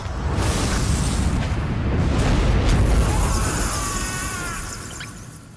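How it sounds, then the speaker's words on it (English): A vampire bursting into a swarm of bats in a Halloween hidden object game, a loud, rumbling whoosh-like blast that swells and slowly fades over several seconds, with faint fluttering chirps near the end. "he exploded into bats"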